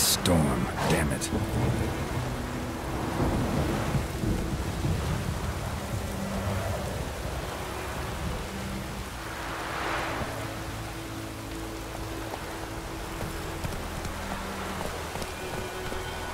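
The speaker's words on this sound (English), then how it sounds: "A storm, damn it." Thunderstorm with steady rain in The Witcher 3, a continuous broadband wash of rainfall with low rumbling thunder swelling in the middle, heard close and fairly loud with no talking.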